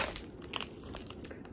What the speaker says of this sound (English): I was snacking on these chips from, where did I go? I went to Target.